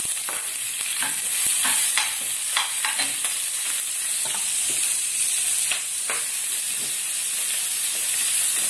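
Onions are sautéed in hot oil in a pan for palabok, giving a loud, continuous sizzle and hiss with scattered crackles and soft stirring scrapes, and no voices.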